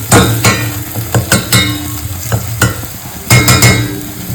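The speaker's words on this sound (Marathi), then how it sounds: "त्याला तेल सुटतंय चांगला फ्राय करायचा मसाला" Spice masala frying in oil for a partridge curry, stirred hard with a spoon: loud close scrapes and clanks against the pan in irregular clusters over a continuous sizzle, with no voices.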